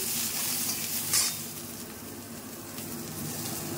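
Onion pieces and chopped garlic sizzle in a hot pan, a steady close frying hiss with a brief stirring scrape near the start, no voices.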